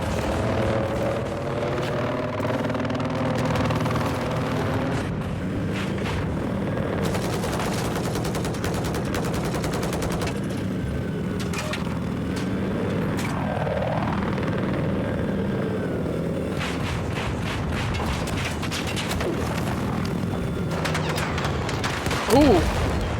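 Attack helicopter rotor drone with bursts of gunfire and booms on a Battlefield 4 Conquest battlefield, a steady loud mechanical roar throughout with scattered shots and explosions, under overlapping talk.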